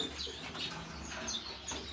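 Canaries in a breeding setup give bright, repeated chirps and short calls. The sound is steady and fairly close over a soft background hiss, with no voices.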